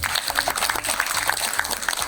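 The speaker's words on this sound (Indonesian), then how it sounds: "Tepuk tangan dulu untuk ibu-ibu semua." Steady applause from a group at a temple ceremony in Indonesia, with dense clapping sustained at moderate loudness throughout and no voices over it.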